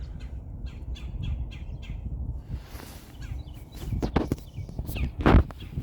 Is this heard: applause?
no